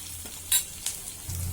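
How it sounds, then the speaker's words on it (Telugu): Green chilies frying in oil for cabbage manchurian in a home kitchen, giving a soft steady sizzle with a few brief stirring scrapes, close and moderately quiet, no talk. "పచ్చిమిర్చి, ఫ్రై అయ్యాక ఉంచుకోవాలి."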